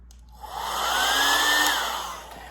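A vacuum pump draws air out of a luggage vacuum-seal bag, a steady whining hum that rises in pitch and strengthens for about a second before tapering off, close by and alone.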